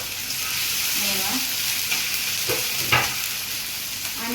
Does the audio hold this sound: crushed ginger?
yes